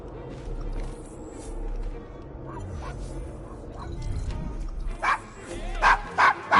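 A dog in the Assassin's Creed Syndicate game yips and whimpers near the end, a few short barks standing out over a murky street ambience and background game sound.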